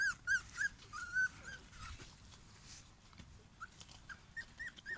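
Cocker Spaniel puppies whimper while suckling, giving repeated soft high whines and squeaks in short bursts close by, with no talk.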